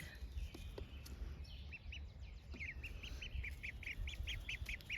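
Newly hatched ducklings peeping in a series of rapid, high, thin chirps, close and moderately faint, growing busier toward the end over a low background hum.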